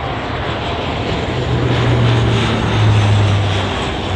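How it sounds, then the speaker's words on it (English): A US Coast Guard C-27J Spartan twin-turboprop makes a flyby at an Oregon airshow in McMinnville, its loud, steady engine drone and propeller hum swelling slightly as it passes, with no talk over it. "the C-27J Spartan."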